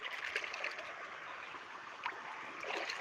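Water flows steadily with a soft rushing, gurgling hiss, fairly quiet and continuous with no voices.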